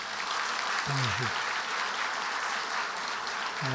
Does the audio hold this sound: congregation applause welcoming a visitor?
yes